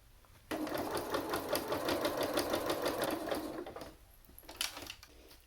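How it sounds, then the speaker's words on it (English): A sewing machine stitches seams on a single piece of fabric for a Christmas ornament, starting abruptly into a fast, even, close whirring run that stops after about three and a half seconds, then a brief stitching burst follows. "we will sewing all the piece of fabric we need, and the seams and 3 of the sides"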